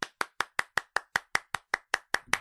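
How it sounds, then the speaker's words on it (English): Slow, even hand claps at a CPR and first aid training session after everyone passed the exam, about a dozen sharp isolated claps in steady rhythm, close and fairly quiet. "round of applause to everybody"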